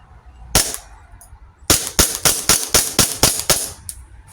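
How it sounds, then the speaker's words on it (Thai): A Sig Sauer P320 M18 airsoft pistol fires one shot, then after a pause empties the rest of its magazine in a quick run of about nine sharp, loud, close cracks with no talk. "โอเคมาทดสอบยิงให้หมดแม็กเลยนะครับผม"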